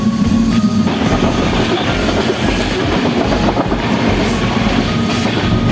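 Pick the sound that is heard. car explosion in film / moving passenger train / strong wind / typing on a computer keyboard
moving passenger train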